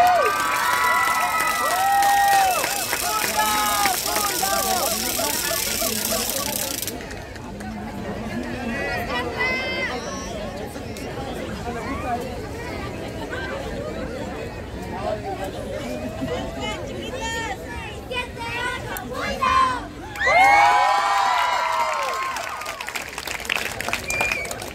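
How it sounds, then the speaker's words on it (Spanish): A school showcase crowd cheers and applauds for a bulldog-themed school team, a dense roar of clapping, shouts and chatter lasting throughout, with an announcer's voice cutting through near the end. "Fuerte el aplauso."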